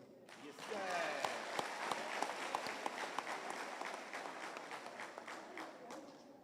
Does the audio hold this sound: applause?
yes